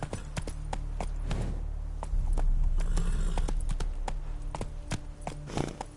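A horse gallops steadily in the Witcher 3 video game, its rhythmic hoofbeats loud and continuous over a low rumble of the game's ambience, with no speech.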